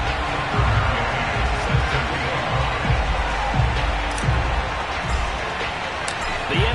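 Stadium crowd in an EA Sports NFL game before a matchup with the New York Giants: a broad, steady roar of cheering with thumping beats underneath, continuous and fairly loud.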